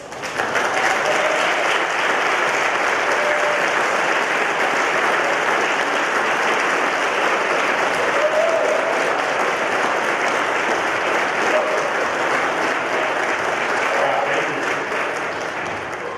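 An audience applauds scholarship recipients at a 2019 senior awards ceremony, with steady, dense clapping that stays loud and continuous throughout.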